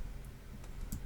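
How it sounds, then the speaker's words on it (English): Several light clicks of typing on a computer keyboard, soft and sparse, spaced irregularly over a quiet background. "I can start typing the word account and then look for it here"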